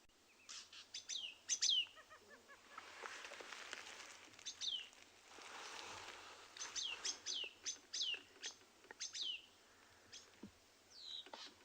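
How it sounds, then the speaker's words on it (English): Kurrichane thrush and fork-tailed drongo calling agitatedly at sunset, repeated sharp chirps and whistled notes in bursts, with a quieter scratchy churring between them, fairly close in an outdoor safari setting. "allow you to listen to currachain thrush and the fork-tailed drongo getting very upset."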